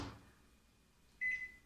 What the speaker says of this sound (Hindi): ये डिश तैयार है जो माइक्रोवेव में रखी जाएगी